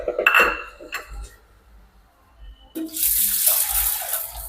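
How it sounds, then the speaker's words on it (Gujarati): Lentils (dal) being washed in a pot at a home kitchen: water splashes and sloshes, with a short clatter of vessels early, then a steady rushing stream of water running into the pan toward the end. "જે રીતના આપણે ભાતને ધોયા હતા એ રીતના દાળને પણ આ રીતના ધોઈ લેશું"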